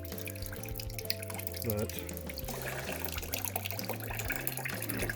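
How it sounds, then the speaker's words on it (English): Water drains from a washing machine that won't drain or spin into a bucket, trickling and dripping steadily beneath a low hum, with a voice speaking briefly. "It's draining out a little bit. I just got it draining into a bucket."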